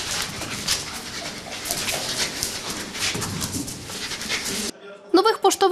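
A mine-detection dog at a fire and rescue service museum panting close and steadily for several seconds, with a few whimpery breaths, before a short burst of people talking at the end.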